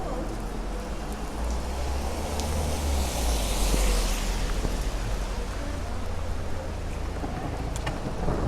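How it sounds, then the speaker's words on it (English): Sudden rain with thunder in Medjugorje during a morning town tour, a steady outdoor hiss of rain and wind buffeting the microphone over a deep low rumble that swells around the middle and then eases. "And you hear the thunder."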